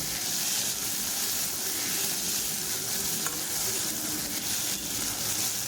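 A medium-sized tomato sautéing with a little salt in a pan of oil for a one-pot vegetable biryani gives a steady, close sizzle with stirring scrapes throughout. No one speaks.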